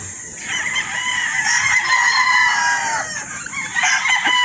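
A Boston Roundhead broad stag rooster crows and clucks loudly and close, its calls running steadily through the whole stretch with no talk over them.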